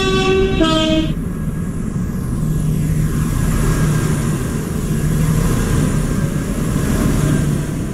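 A Class 331 train in the Roblox game rumbles along with a steady, loud rolling drone, opening with a short two-tone horn blast before settling into a constant run.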